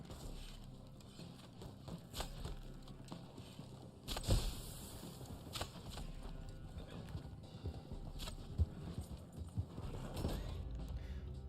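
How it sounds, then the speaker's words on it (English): Horse hooves clip-clop in the Red Dead Online game, a steady galloping patter under a low rumbling soundscape, with a sharper thud partway through. "Why did the horse not jump over that?"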